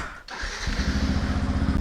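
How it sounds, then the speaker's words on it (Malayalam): A Black Bison motorcycle engine cranks and catches, then settles into a loud, steady, throbbing idle close by. "വണ്ടി സ്റ്റാർട്ട് ചെയ്ത് കഴിഞ്ഞു"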